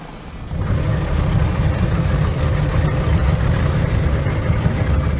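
A toy helicopter sound effect for a Playmobil story: a steady whirring rumble kicks in after half a second and runs on without a break, fairly loud and alone.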